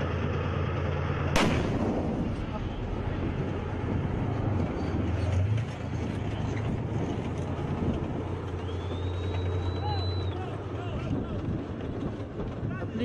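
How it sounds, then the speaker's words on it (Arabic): A Russian airstrike explosion booms once early on, followed by a long rumbling roar of distant bombardment, with a whistling tone and voices faintly audible. "قصف من الطيران الروسي على معسكرات تدريب لواء صقور الجبل"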